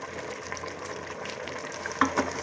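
Meat curry with vinegar stirred in a pot, a steady soft frying sizzle throughout with a couple of brief scraping clinks of the spoon near the end.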